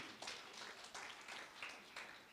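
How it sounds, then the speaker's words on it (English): Scattered audience applause at an association annual general meeting, faint and distant, with several loose bursts of clapping rising and falling rather than one sustained ovation. "So a big applause for the smile."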